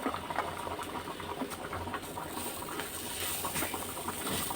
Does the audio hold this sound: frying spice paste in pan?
yes